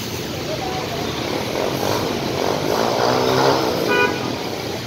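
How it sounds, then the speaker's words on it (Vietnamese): Motorbikes on a deeply flooded street in Thao Dien, Saigon, revving hard to force water out of their exhaust pipes, giving a steady engine drone with rising revs and a horn-like tone near the end, amid street noise and voices. "đang nẹt bô để cho nước trong cái ống bô xả nó chảy ra ngoài để có thể hoạt động lại được"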